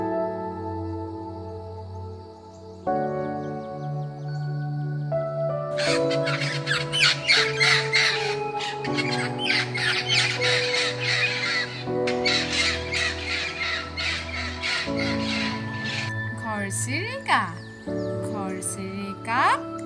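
Harsh parrot squawks, several repeated calls over steady background music, fairly loud and near.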